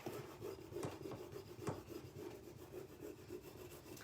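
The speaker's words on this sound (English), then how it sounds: "And then I'm just going to burnish it." Faint, rhythmic rubbing strokes as a decor transfer is burnished onto a wooden dresser, with soft rasping passes repeating at an even pace and no voices.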